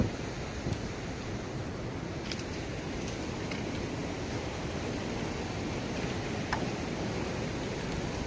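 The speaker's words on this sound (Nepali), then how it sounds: "पानीको करेन्ट पनि त्यही माथि एकदम हाई छ" A fast, high mountain river rushes steadily along a trekking trail between Dingboche and Lobuche, giving a continuous, even wash of broadband water noise with no voices.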